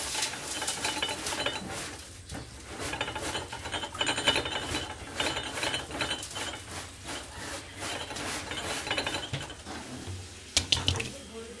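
Pabda fish are scrubbed and washed by hand in water inside a pot, with repeated close rubbing and rasping strokes, light splashes and occasional clanks against the metal.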